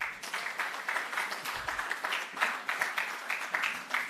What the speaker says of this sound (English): I want you to clap yourself again.